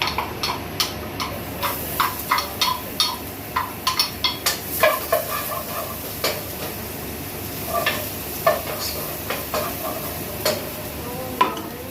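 Garlic sizzling in a pan over steady frying hiss, with frequent sharp clicks and scrapes of a utensil stirring against the pan, heard up close.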